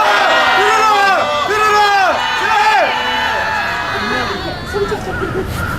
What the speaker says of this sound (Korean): 우리들의 소리를 들으라 하면 다 같이 들으라 하고 함성합시다.